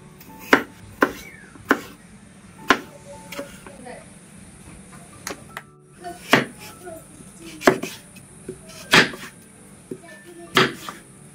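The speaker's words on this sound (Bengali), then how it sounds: "সবজিগুলো কাটা হলো" Knife chopping vegetables on a board for a Bengali vegetable curry, about ten sharp, separate chops in an uneven rhythm with pauses, close and fairly loud, with faint kitchen clatter between strokes.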